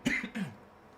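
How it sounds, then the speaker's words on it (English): A single person gives two quick coughs, close and fairly loud, then the sound fades into quiet room tone. "excuse me, I got a cough."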